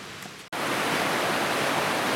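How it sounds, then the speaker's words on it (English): Flowing water from creeks along a wilderness trail, a continuous broad rushing hiss after a brief quieter moment, steady and even throughout. "I can hear some water off in the distance."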